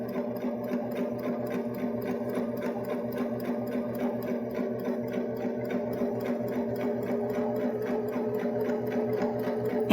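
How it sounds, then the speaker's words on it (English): A Baby Lock Jazz II sewing machine topstitches a fabric piece, running at a steady, fast rhythmic hum with a continuous ticking needle pulse, close and moderately quiet, with no pauses. "I'm going to stitch down my fabric piece"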